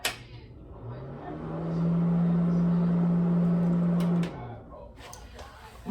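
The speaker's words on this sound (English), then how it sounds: "this is the sound you hear when my light comes on" A steady low electrical hum from a house light starts as it switches on and holds for a few seconds, then cuts off, over quiet room noise.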